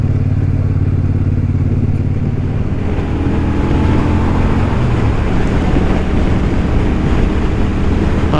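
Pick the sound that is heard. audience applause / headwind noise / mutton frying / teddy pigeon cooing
headwind noise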